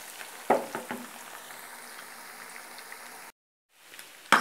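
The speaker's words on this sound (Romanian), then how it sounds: "Lăsăm să se prăjească pe amândouă părțile." Swedish meatballs fry in a pan with a steady, soft sizzle and a few louder clatters near the start, then a brief silent gap before the frying noise returns.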